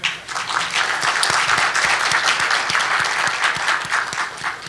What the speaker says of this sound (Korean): 여기서 박수를 치셔도 되겠습니다.